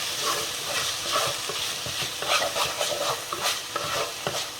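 Chopped tomatoes stirred into a hot pan over ginger-garlic paste, with a low sizzle of frying under irregular scraping and stirring knocks, close and moderately loud, no voices.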